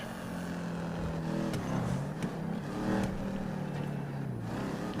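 A fully modded turbocharged car engine in GTA V revs in a sustained droning roar with rising and falling pitch and small crackles, moderately loud and steady with no talk.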